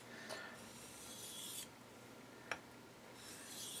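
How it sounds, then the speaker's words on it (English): A homemade bush knife blade is rubbed across a sharpening stone in consistent strokes, producing soft, quiet rasping swishes with a couple of sharper scrapes, close and faint, without talk. "just gonna work it on this stone now and sharpen it up"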